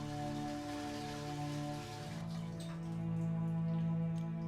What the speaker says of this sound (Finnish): Ja menepä bokserit jalassa suihkuun.